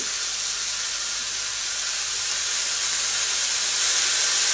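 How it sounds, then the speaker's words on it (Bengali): Sauce poured onto steak in a hot pan sends up a loud, steady steaming hiss close by, swelling slightly toward the end with no voices. "স্টিকের উপর এখন আমি সসটা দিয়ে দিচ্ছি"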